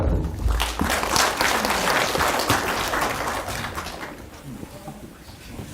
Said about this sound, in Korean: 교수님께 큰 박수 부탁드립니다.